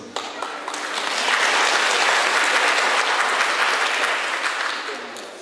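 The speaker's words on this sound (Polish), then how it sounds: "Brawa dla Was." A church audience breaks into a loud, dense round of applause that swells over the first second, holds full and steady, then eases slightly toward the end, with faint crowd murmur mixed in.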